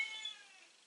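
A house cat gives a single short, faint meow that trails off, heard alone indoors.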